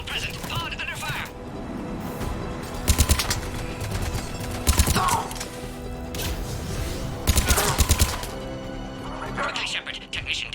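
Mass Effect 3 combat at a checkpoint: several short bursts of sci-fi gunfire crack out at intervals over a busy backdrop of music and effects.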